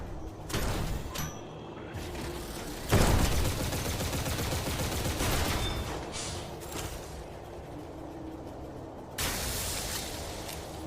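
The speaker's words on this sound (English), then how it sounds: "I just remembered I had this missile launcher." Missile launcher fire in a video game: a dense run of blasts and rumbling bursts, with a loud surge near the three-second mark and another near the end, steady and close throughout.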